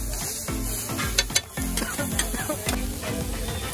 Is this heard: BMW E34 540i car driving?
no